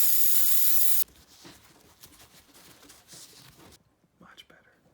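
Aerosol brake cleaner sprayed in a garage during a Honda Foreman 400 rear axle rebuild, a loud steady hiss lasting about a second, then quieter short bursts and faint handling noise.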